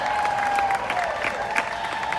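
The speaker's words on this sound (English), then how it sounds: "Give yourselves a round of applause for being the champion and showing up" A seminar audience gives a brief round of applause, a steady patter of many hands clapping at close range with a few sharper claps standing out.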